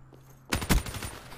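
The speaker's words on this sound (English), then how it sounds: "you ain't heard me shooting up in this window" A quick burst of machine gun fire in Black Ops 3 starts abruptly after a near-silent moment, with a loud cluster of sharp reports followed by a rattling tail of shots.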